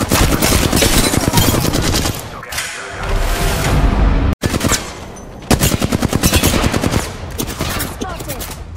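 Automatic gunfire in the game Apex Legends rattles loud and close in rapid sustained bursts with brief pauses, mixed with thuds and whooshes, while a voice speaks intermittently.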